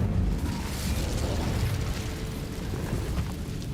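The Incendio fire spell is cast in Hogwarts Legacy, producing a low, rumbling burst that begins strongly and settles into a sustained roar of flames.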